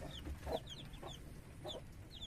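Soft, intermittent clucking from a chicken over a faint hum, with a few short bursts and high chirps scattered through the clip.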